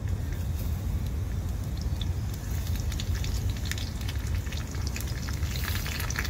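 Curry leaves sizzling in hot oil for a Maharashtrian coconut chutney tempering, a steady, dense crackling fry that holds close and fairly loud without a break, no voices over it.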